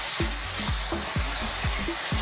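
Pork and tomatoes fry in a pan for an Italian-style stew with sweet peppers, a steady sizzle broken by about eight rhythmic scrapes of a spoon stirring through the pan.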